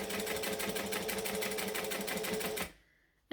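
A sewing machine stitching and back stitching a bag, a rapid steady mechanical chatter that runs for a couple of seconds and then stops abruptly.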